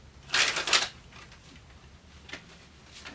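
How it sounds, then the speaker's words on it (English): Tarot cards shuffled by hand: a quick double burst of riffling near the start, then a few softer, scattered card taps and slides in a quiet room. "We're going to do one more shuffle."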